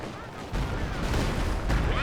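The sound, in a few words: Stuka dive bomber barrage in Company of Heroes 2 video game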